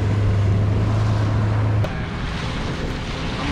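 A small fishing boat moves along the Kerala coast at sea, with a constant loud rumble of engine, water and wind noise that drops slightly partway through and then holds steady, with no talking.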